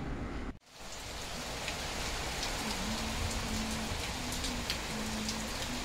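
Heavy rain pours down steadily outside a home kitchen, a dense, continuous hiss of drops that stays loud and even throughout after a brief dip at the start.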